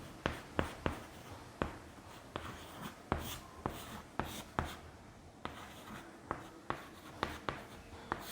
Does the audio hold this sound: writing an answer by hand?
yes